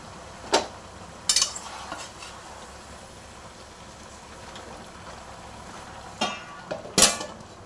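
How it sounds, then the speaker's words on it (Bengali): Malabar spinach leaves stirred in a cooking pan for a Bengali chorchori, with a soft sizzle underneath and several sharp clinks of a spoon scraping the pan at irregular intervals. "এবার পাতাগুলো দিয়ে দেবো, সব দিয়ে নেড়ে নিয়ে"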